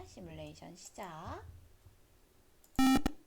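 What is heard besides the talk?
piezo buzzer melody playing in circuit simulation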